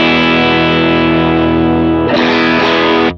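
Electric guitar through a Line 6 Helix patch with a boosted midrange, a loud distorted sustained chord that rings out, then a fresh strum near the end, alone with no talk.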